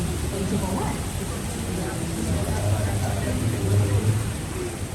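Steady rain falls at night outdoors, a constant hiss with low rumbling underneath, while people talk over it throughout.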